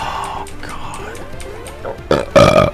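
A person lets out a burp, a short croaky grunt-like sound, followed by louder bursts of gruff voiced noise near the end, close to the microphone amid faint background game sounds.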